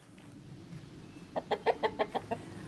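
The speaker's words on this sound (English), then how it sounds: "Fed my chickens." A run of seven quick, rhythmic clucks from backyard chickens at feeding time, fairly close and clear over a quiet background with no talk.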